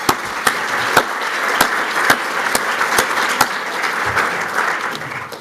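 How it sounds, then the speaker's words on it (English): Sustained applause from an audience at the 2013 PROSE Awards, dense clapping with a few sharper claps standing out, steady throughout. "I'd like a collective round of applause for them as well."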